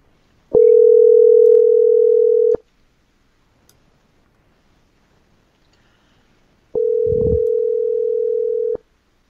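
Telephone tone heard while placing a call to a listener: two loud, steady single-pitch tones of about two seconds each, separated by several seconds of near silence, with clicks at the start and end of each.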